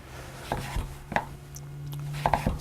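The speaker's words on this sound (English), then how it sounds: "I need to chop this up next. I want to chop it into 1-inch" A knife chops butternut squash into 1-inch chunks on a board, about six sharp thunks in an irregular rhythm over a low steady background hum, close and clear.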